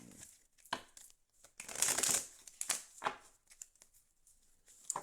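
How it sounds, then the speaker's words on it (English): Tarot cards are shuffled in short bursts, crisp riffling and flicking snaps separated by brief quiet pauses, close and fairly soft. "I'm going to do a live shuffle on screen"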